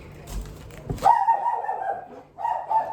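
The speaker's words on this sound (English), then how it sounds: "There's the doggy again." A dog in a home kitchen reacts to someone at the door with a short bark, then drawn-out, whining, howl-like cries, fairly loud and close.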